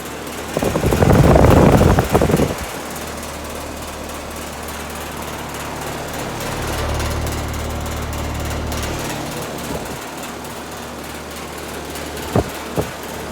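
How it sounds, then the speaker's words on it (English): A 2007 Carrier 2-ton base-model heat pump running in heat mode gives a close, steady low drone, with a louder rattling surge near the start, a swelling hum midway and a couple of sharp knocks at the end. "Here is the Carrier heat pump running in heat mode. It's a 2-ton from 2007."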